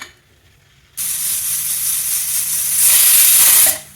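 Steam from cooking toor dal bursts into a loud, continuous hiss after a quiet start, swells stronger toward the end, then cuts off abruptly, with no talking.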